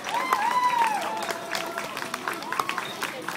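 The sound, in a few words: audience clapping after a dance performance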